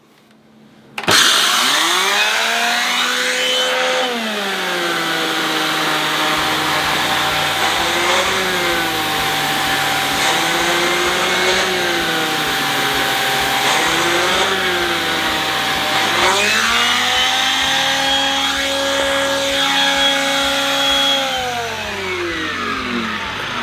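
A Shark cordless vacuum cleaner's loud motorized whine starts abruptly and runs continuously, its pitch rising and falling repeatedly as the load changes, close by with no talking.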